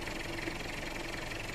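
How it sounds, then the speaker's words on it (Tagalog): A cold Mitsubishi Pajero 4M40 engine, fitted with an aluminum radiator, idles with a steady rumbling, faintly knocking vibration, continuous and fairly quiet. "Yan, medyo pa-vibrate pa kasi malamig pa yung makina."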